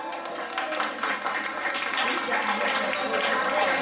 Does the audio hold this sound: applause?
yes